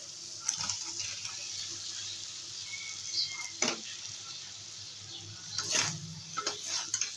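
Pointed gourd and potatoes go into spiced masala in a pan, a soft steady sizzle with a few sharper clatters and stirring scrapes, fairly quiet and close.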